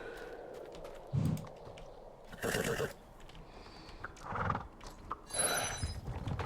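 A horse in the online game Star Stable Online whinnies several times in short bursts, with soft hoof clip-clops and faint keyboard tapping between the calls.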